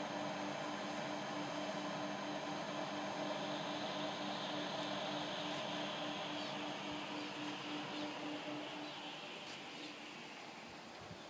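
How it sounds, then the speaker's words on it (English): Gust of wind in the outskirts of tropical storm Erika, blowing through garden plants and flowers: a steady, loud broadband rush lasting the whole stretch, easing slightly toward the end, with no talking. "That was a good gust of wind that just passed there."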